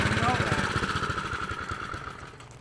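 A GEET slave engine running after being started, with a steady pulsing low-pitched idle chugging and a high whine throughout, while people talk nearby.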